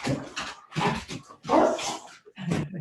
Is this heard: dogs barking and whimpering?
yes